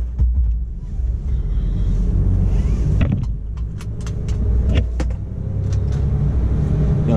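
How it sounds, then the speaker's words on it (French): Car tyres rolling over painted white road lines in fog, a steady loud road rumble with several brief sharp clicks and thumps as the wheels pass over the markings. "Des pneus sur la bande blanche."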